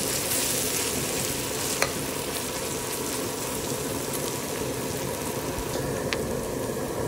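Okra and danggit ingredients frying in hot oil, a steady close sizzle and crackle that runs without a break, with a few sharp clinks from stirring and no talk.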